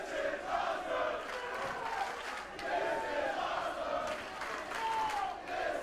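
Wrestling arena crowd at a Rob Van Dam versus Willie Mack match, a sustained roar of cheering and shouting that swells and dips in waves, fairly distant and steady throughout.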